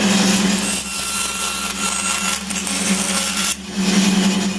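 A power tool saws wood into eight small triangular pieces in a workshop while building a router table cabinet. The loud, steady cutting drone runs throughout, with one brief dip in the middle.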